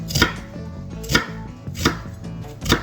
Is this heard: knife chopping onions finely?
yes